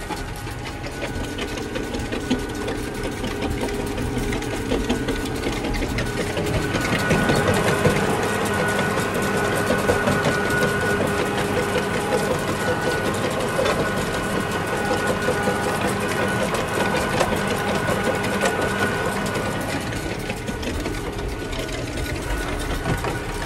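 A manure spreader with rocks in its load runs with a continuous mechanical drone and rattling clatter, steady and fairly loud, rising slightly in the middle.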